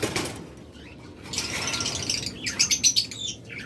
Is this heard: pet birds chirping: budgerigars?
yes